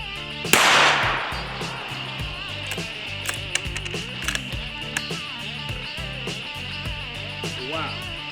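A single loud rifle shot cracks near the start and rings out, followed by scattered faint clicks and knocks under a steady background tone.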